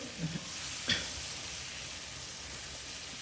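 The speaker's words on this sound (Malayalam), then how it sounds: "ഈ തക്കാളി അരിഞ്ഞു വെച്ചത് കൂടെ ചേർത്ത് ഉപ്പ് ആവശ്യമുണ്ടെങ്കിൽ ലേശം കൂടെ ചേർത്ത് നന്നായിട്ട് ഇളക്കി യോജിപ്പിച്ച്" Chopped tomatoes frying in a pan with salt, a soft continuous sizzle and a couple of faint utensil scrapes from stirring, quiet and close with no talking.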